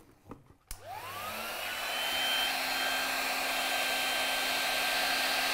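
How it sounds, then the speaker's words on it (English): A heat gun shrinks clear heat shrink tubing over two cables. It clicks on, its motor spins up with a rising whine, then it blows with a loud, steady, close whoosh. Nobody speaks. "And as you can see, Barry, as the tubing shrinks, it still stays clear"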